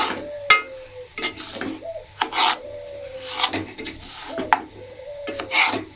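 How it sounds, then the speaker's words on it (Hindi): Semolina (sooji) frying in a pan with nuts and raisins for halwa, a dry gritty scraping and rasping as a spoon stirs it in repeated strokes, close and fairly loud, with a few sharper knocks of the spoon against the pan. "अब मैं सूजी डाल के इसको अच्छे से फ्राई कर लूंगी।"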